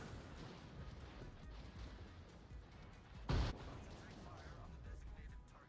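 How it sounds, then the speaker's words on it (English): A single heavy salvo from a warship's forward guns in World of Warships booms once, brief and loud, over a steady rumbling battle ambience with a voice talking throughout. "I get a decent hit with all my front guns"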